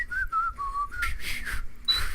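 A person whistles a short, wavering tune up close, a few sliding notes followed by a quick high one, with breathy air between them.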